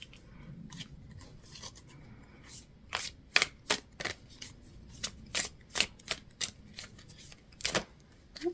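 Tarot cards shuffled by hand up close, a run of crisp slaps and snaps, sparse at first and then coming in a quicker, irregular rhythm, with no talk.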